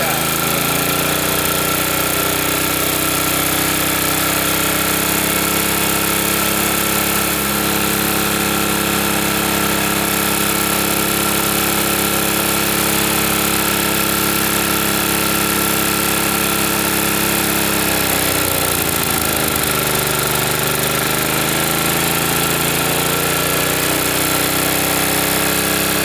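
A 1965 Ariens snowblower engine, a vintage small engine on a trash-picked machine missing a linkage, runs steadily at close range with a constant hum; partway through, its pitch dips briefly and then recovers.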